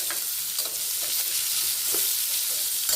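Boiled elephant foot yam frying in oil sizzles steadily and close, with a few soft pops and stirring scrapes scattered across the clip and no voices.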